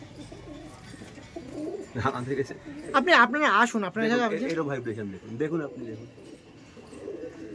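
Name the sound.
Giribaj pigeons cooing at pigeon market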